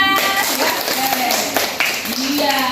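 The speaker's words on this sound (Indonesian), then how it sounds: "Oke, tepuk tangannya." Students in a classroom applaud together, a steady wash of clapping running the whole time with a teacher's voice speaking over it.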